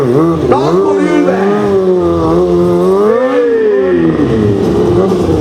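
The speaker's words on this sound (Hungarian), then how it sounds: "Bedönti a motort és körbe-körbe elkezdett kormánnyal!" A stunt motorcycle at a stunt riding championship revs up and down loudly and close by, its pitch rising and falling in waves as the rider circles while sitting on the tank.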